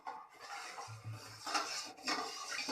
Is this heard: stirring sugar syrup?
yes